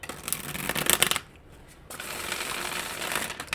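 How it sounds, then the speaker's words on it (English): A deck of Once Upon a Dream oracle cards is shuffled up close in two loud riffling bursts, split by a short pause. "They shuffle like a dream, don't they?"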